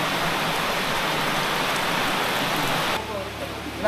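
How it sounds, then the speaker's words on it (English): Steady rain pours down during a mountain bike ride in the hills of Penang, making a dense, loud hiss that continues throughout and then thins a little near the end. "Started to rain now."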